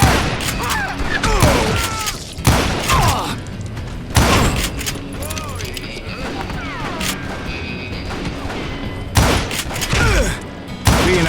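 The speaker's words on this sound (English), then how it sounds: "We're under fire!" Heavy gunfire in a Wild West shootout in the game Call of Juarez: Gunslinger, with loud repeated shots and bursts crashing over a busy, chaotic battle soundscape, with occasional voices in the mix.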